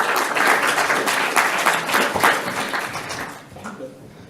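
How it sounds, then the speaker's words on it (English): An audience in a lecture hall claps for a speaker on organ transplantation who is stepping up to the podium. The loud, dense applause fades toward the end. "You won't be clapping when I've finished."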